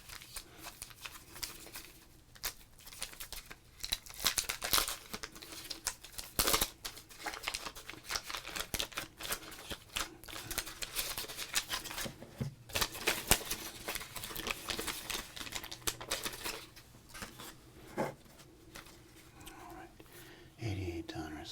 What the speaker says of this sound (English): Let's do a little pack breaking with a little bit of crinkling. Opening up 88 Donruss.